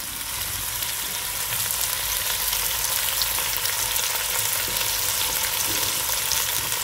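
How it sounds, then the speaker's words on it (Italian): Food browns in a hot pan with a continuous, dense sizzle and crackle of frying. It stays steady and close throughout with no voices. "rosolare leggermente anche questa parte"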